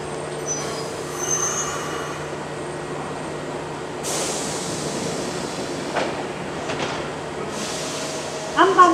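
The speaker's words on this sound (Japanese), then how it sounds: "4番乗り場に大阪上本町行き各駅停車、上本町行きの各駅停車が参ります。" A six-car Kintetsu Osaka Line local train bound for Osaka-Uehommachi arrives at Takayasu station, a steady rumble and rolling hum with faint rail clatter and brake hiss near the end.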